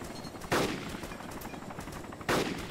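Gunfire aimed at a helicopter in the video game DayZ: two loud, sharp shots about two seconds apart ring out over a steady rumbling background.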